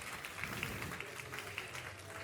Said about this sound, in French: Je pense que c'est lui que vous applaudissez à l'avance